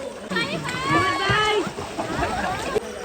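Someone splashes into the water for a swim at a farmhouse, with close voices, including a child's, talking and calling over the sloshing.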